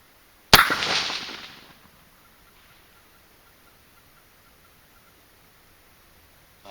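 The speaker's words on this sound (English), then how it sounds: "I'm going to send one at that steel plate." A single .223 Remington rifle shot with a 55-grain V-Max bullet, fired at a steel plate outdoors: one loud, sharp crack with a short decaying tail, then near silence.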